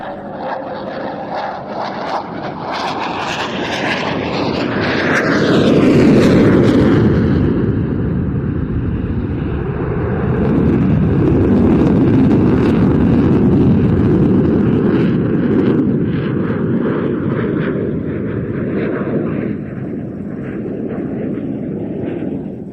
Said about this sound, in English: from the left here comes the Hungarian Air Force Jas-39C Gripen